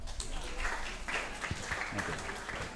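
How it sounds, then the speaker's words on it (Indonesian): Congregation applause at a Christmas Eve church gathering, a moderate, fairly distant patter of hands with voices talking over it. "Tepuk tangan Mbak Johita Siska"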